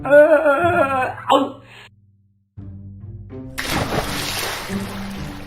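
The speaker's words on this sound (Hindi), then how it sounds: "और कुएं से पानी लेने के चक्कर में लोमड़ उसमें ही गिर गया।" A cartoon fox tumbles into well water, a quick thud followed by a broad, noisy splash and sloshing that carries on to the end, with voices heard just before it.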